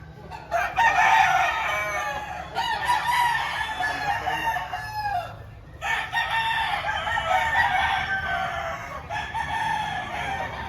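Several roosters crow repeatedly at a Philippine gamecock auction, overlapping calls filling the space at close range with steady clucking and barn noise beneath, no talk over them.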